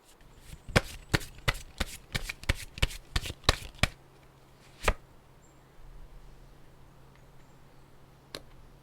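Tarot cards shuffled by hand in a quiet room: a rapid run of about a dozen crisp riffling slaps over four seconds, then a single card snap and, after a pause, one last faint flick.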